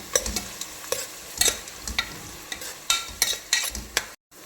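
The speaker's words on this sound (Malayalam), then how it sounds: "രണ്ട് പച്ചമുളക് ചെറുതായിട്ട് ചതച്ചെടുത്തത്, ഇഞ്ചി വെളുത്തുള്ളി നന്നായിട്ട് മിക്സ് ചെയ്യാം." Chopped green chillies, crushed ginger and garlic being stirred in a pan for a chicken cooker biryani, with repeated scraping strokes of a spoon over a soft sizzle, close and moderately loud, no talking.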